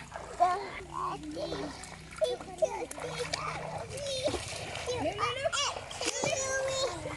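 Water splashes and trickles as a child swims in a resort pool beside a family suite, with children's voices and adult speech running over the splashing throughout.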